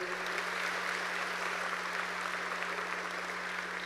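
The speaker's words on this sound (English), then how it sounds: "Can we please clap it up?" A graduation audience claps in a large venue, a soft, distant wash of applause that holds steady over a low electrical hum.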